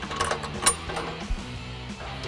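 A 13mm bolt with lock washer and flat washer being tightened into a Jeep Gladiator running board bracket, close metallic clicking and ratcheting with a couple of sharper knocks, no speech.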